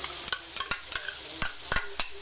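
Ground meat and mushrooms sizzle softly in a pan while a utensil stirs them in quick, irregular scraping knocks.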